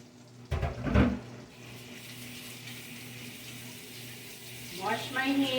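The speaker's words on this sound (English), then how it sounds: "Wash my hands." Running tap water at a kitchen sink while hands are washed during cooking, a steady close rush after a couple of louder splashes, with a brief voice near the end.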